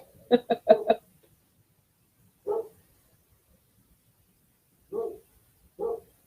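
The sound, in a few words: dogs barking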